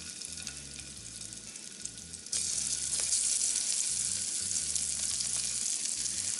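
Faux lamb is browning in a pan that is heating up for a curried dish. A quiet sizzle jumps to a louder, steady frying hiss partway through and continues without talk.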